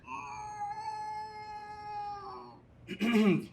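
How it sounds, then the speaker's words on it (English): A long, drawn-out cat meow with a strong rising and falling tone holds for about two and a half seconds, followed by a brief pause and a second, rougher cry, both fairly close and clear. "Scratch, the cat"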